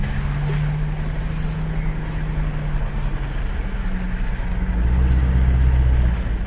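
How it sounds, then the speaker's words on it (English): An off-road vehicle drives a small dirt track from the Pines picnic area to the Pines campground, with a continuous low engine rumble heard from inside that swells slightly toward the end and no voices. "Just driving from the Pines picnic area back to the Pines campground along this little track"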